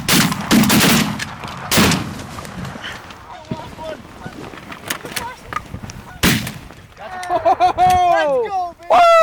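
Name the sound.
shotgun shots during a goose hunt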